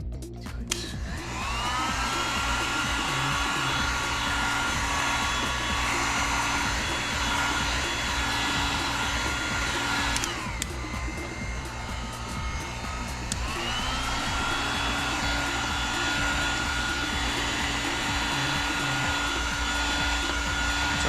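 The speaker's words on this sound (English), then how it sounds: "Let's add some heat and see if we can pry it up." Heat gun blowing hot air steadily onto the glue of a carbon spoiler on a BMW M4 CS, a loud continuous whine and rush that cuts out briefly midway and then starts up again.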